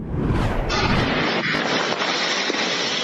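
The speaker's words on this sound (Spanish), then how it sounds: "esta brutal explosión de un camión que usaba como combustible gas natural comprimido" A compressed natural gas fuelled truck explodes in Wilmington, California, heard as a loud, rumbling blast and roaring burst that stays dense and sustained for the whole three seconds, with no voices.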